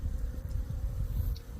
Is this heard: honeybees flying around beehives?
yes